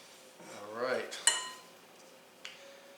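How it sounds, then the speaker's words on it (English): Biscuit dough being mixed in a bowl, with a spoon clinking and scraping against the bowl sides in a couple of sharp knocks, close up, with a brief voice-like tone under it. "you just mix until the dough cleans the sides of the bowl"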